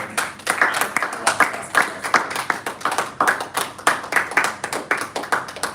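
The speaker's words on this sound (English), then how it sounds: "Could we please give a round of applause to everyone who has evaluated?" A crowd applauding steadily at a Toastmasters club meeting, many hands clapping in a dense, continuous patter that rises and falls slightly over several seconds.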